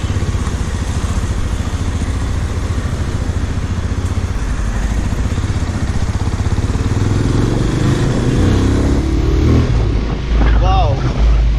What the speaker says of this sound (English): We'll be taking this out for a ride now.